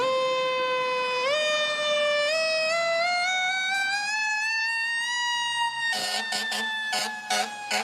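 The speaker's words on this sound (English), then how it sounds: "There's an actual corporation that makes the siren, Federal Signal. Fans post videos about the siren online. Here's what it sounds like." A Federal Signal Q siren on a fire truck winds up in a loud, steadily rising mechanical wail. Rapid blasts of an electronic horn or yelp cut in near the end.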